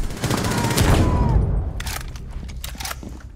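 Rapid gunfire in the tactical shooter game Rainbow Six Siege, a loud burst of automatic shots that fades into scattered pops and clatter, with voices talking over it.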